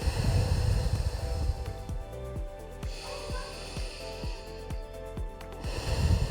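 A person doing a lower-back exercise exhales in an audible, breathy rush near the start, and again toward the end. Between the breaths comes a quieter stretch with a series of short, regular clicking pulses.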